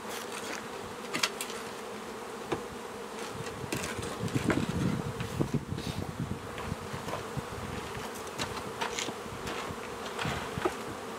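Honeybees buzz around an opened beehive as a hobby beekeeper cleans the hive floor, a steady close hum with individual bees zipping past the microphone, no talking.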